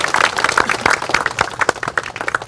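Audience applause at a memorial ceremony for fallen soldiers of the Horim special forces unit at Seoul National Cemetery: brisk, dense clapping from a crowd, loud and close, holding steady throughout.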